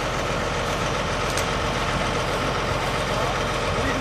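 A farm tractor hitched to a SWECO 610LW agricultural disc harrow idles in a steady, loud, low rumble that runs unbroken throughout.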